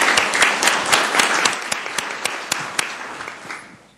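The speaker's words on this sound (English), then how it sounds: "Let's give him another round of applause." Round of applause at a Columbus, Georgia city council meeting: a roomful of clapping that starts dense and thins into scattered distinct claps, fading near the end.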